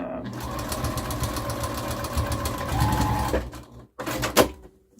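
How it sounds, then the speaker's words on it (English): Sewing machine stitching across the seams of an upcycled hot pad, a loud rapid mechanical whirring that runs steadily, then stops briefly and starts again in a short burst near the end. "you're gonna get that hot pad sewn all the way across"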